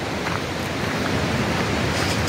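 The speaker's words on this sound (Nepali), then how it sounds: "आवाज जुन खोलाको आवाज छ यो पनि एकदमै मनमोहक छ" A hillside stream flows with a steady, full rushing wash, close and constant, no voices over it.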